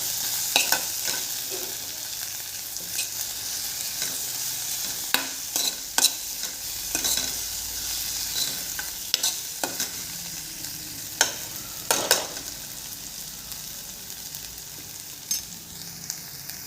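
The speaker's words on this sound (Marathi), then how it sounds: "त्यानंतर एक चमचा लाल तिखट घालून व्यवस्थित मिक्स करून घ्यायचं" Turmeric and red chilli powder are stirred into a sizzling chickpea masala for Punjabi chole, with a soft continuous fry under repeated scraping spoon strokes against the pan.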